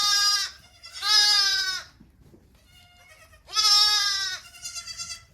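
Baby goats bleat loudly in several drawn-out, wavering calls with short quiet gaps between them, close by and alone.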